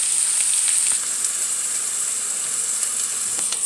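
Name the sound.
onions, garlic, ginger and green peppers frying in a pan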